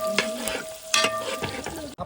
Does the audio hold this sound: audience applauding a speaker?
no